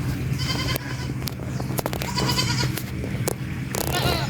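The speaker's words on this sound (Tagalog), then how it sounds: "Yung mga kambing namin sa kabila." Goats on a farm in the Philippines bleat repeatedly at close-to-moderate distance, several wavering calls overlapping against outdoor background noise.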